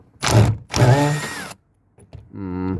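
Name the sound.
impact driver winding out a screw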